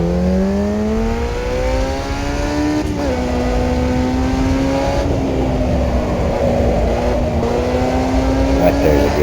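A race car engine in the F1 junior racing video game revs and climbs steadily, its pitch rising and dipping through gear changes, with a person talking over it throughout.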